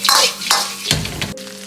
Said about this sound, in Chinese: 接着放入花生米，翻炒几下